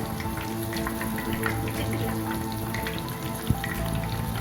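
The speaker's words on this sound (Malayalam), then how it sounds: "അപ്പോൾ നമ്മൾ ഫ്രൈ ചെയ്യുമ്പോൾ എപ്പോഴും ലോ ഫ്ലെയിമിലിട്ടിട്ടേ ഫ്രൈ ചെയ്യാവുള്ളൂ" Chicken pieces frying in oil over a low flame, giving a steady close sizzle with dense crackling pops and one sharper spit near the end, with no voices.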